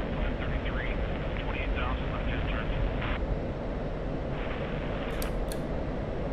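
A DCS flight-simulator F-16 jet engine roars at takeoff, a steady loud broadband thrust noise throughout, with faint cockpit chatter early on and two short high tones near the end.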